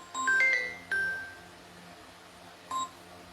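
Telephone dialing to call back, a few short electronic key tones in quick succession followed by another tone a moment later, clear and close with no talk.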